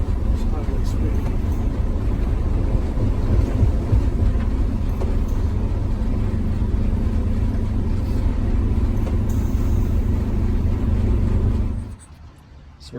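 A GM PD-4106 bus cruises at highway speed, its steady loud engine and road roar droning continuously up close, with people talking over it, before the noise drops away sharply near the end.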